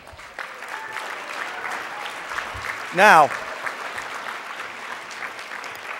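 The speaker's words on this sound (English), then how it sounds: "Let's give a big round of applause for the randomist." Audience applause for a FIRST LEGO League robotics team at a 2011 conference demonstration, steady clapping from a crowd throughout, with a brief loud voice cutting in midway.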